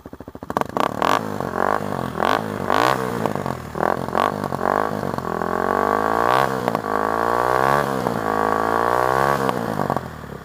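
A Kawasaki KLX300 dirt bike engine, freshly upgraded and run from about four feet away, revs in repeated sharp blips that rise and fall over a steady idle, loud and close with rattly mechanical clatter.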